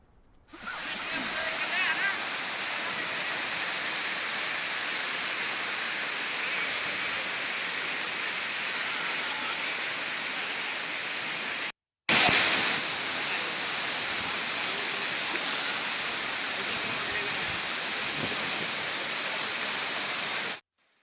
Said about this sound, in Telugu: ప్రకృతి రమణీయమైన ప్రదేశంలో ఎగసిపడే జలపాతాలు ఆ అటవీ సోయగాలకు మరింత శోభం తీసుకొస్తున్నాయి